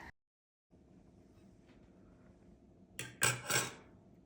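A knife crunches through a hot, crisp baked thin-dough pastry in two short, scraping bursts near the end, after a quiet stretch of low background hum.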